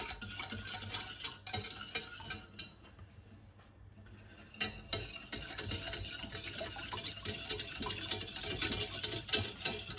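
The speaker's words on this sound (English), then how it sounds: "So you can use a whisk" A whisk stirs sugar and salt into liquid warming over medium heat for sushi rice, with rhythmic light clinking and swishing that stops briefly midway, then resumes steadily close by.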